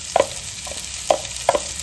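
Green peas tipped into a pan of browned cumin, with a few sharp scraping stirs against a low sizzle, close up and brief, no voice.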